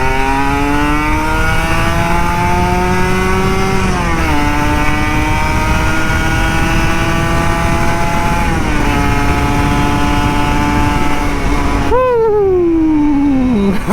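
A Kawasaki Ninja RR 150 two-stroke motorcycle, left unused for a month, revs continuously up close and loud, its engine note climbing and dipping through several throttle blips before a final sharp rise and fall.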